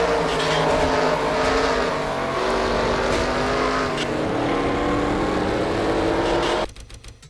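Race car engines in an NR2003 racing game at Bristol, heard from on board the number 18 car: a loud, steady engine drone with shifting pitch throughout, cutting off abruptly near the end.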